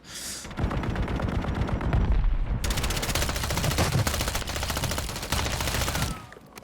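Striker-9 submachine gun in the Warzone video game firing in long rapid automatic bursts, loud and close, with a brief break before the shooting resumes and continues steadily.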